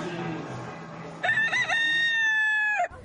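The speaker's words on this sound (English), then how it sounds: "The ever-present roosters of Key West made sure I made the most of my last few hours here." A Key West rooster crows once, loud and close, in a long drawn-out call that follows a stretch of murmuring background ambience.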